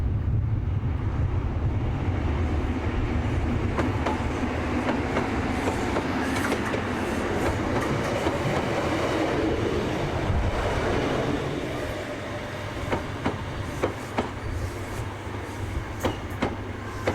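An HST high speed train bound for Paddington roars past at Westbury, a loud, sustained rush of engine and wheel noise with rhythmic rail clicks, easing slightly toward the end.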